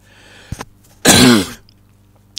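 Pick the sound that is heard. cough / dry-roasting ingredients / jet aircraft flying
cough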